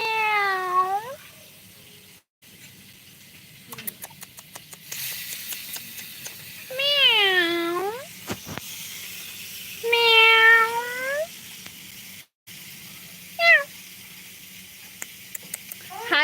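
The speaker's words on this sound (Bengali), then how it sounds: "দুটো বিল্লু বসে আছে দেখো।" Two cats meow in a series of clear, rising-and-falling calls, several drawn-out cries spaced across the stretch with a short high yelp near the end, fairly close over a low background hum.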